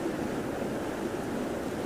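Fast-flowing stream water on a grayling fishing river rushes in a steady, dense broadband wash with no pauses, close and moderately loud.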